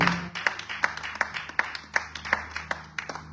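Church congregation clapping in a steady rhythmic beat, about three claps per second, moderately near over a low hum, with no talk.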